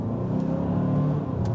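Engine of a 2024 Hyundai Santa Fe Limited in sport mode, a steady low rumble and drone heard from inside the cabin as it accelerates.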